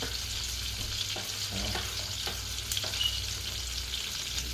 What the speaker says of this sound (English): add the garlic to that shrimp because that shrimp's almost done